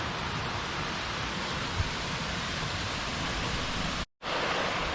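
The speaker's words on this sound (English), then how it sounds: "It follows alongside this brook, which is nice." A brook flows beside a woodland trail on a gradual uphill path near the Vermont–Massachusetts state line, a steady broadband rush of water close by that cuts out briefly near the end.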